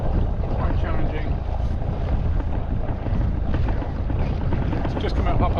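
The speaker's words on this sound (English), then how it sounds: "There's a large motor vessel coming out" A large motor vessel passing near a boat at sea, a low rumbling engine drone mixed with heavy wind buffeting and water noise, steady and fairly loud throughout.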